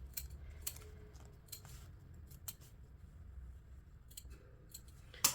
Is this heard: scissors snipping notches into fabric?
yes